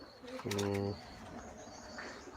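Young pigeons being flown, one of them giving a single short coo up close. A faint noisy background follows.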